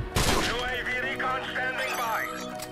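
Gunfire in Call of Duty Modern Warfare, a sniper-only free-for-all match: a sharp shot opens the stretch, then game sounds and effects continue at a steady level under a talking player.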